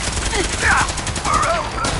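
Rapid gunfire from a firefight in the game Fallout 4 crackles steadily throughout, dense and continuous, with voices shouting over it.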